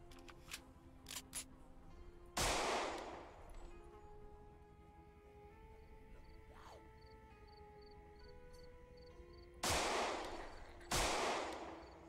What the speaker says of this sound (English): This is just a normal base game pistol.